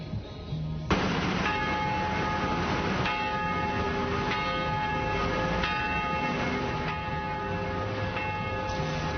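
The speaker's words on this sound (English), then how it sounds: "church bells rang to remember the damage left behind in that 2011 tornado" Church bells ring out in downtown Springfield, tolling to mark the anniversary of a 2011 tornado. Loud, resonant strikes come at a slow, steady pace, each ringing on and overlapping the next.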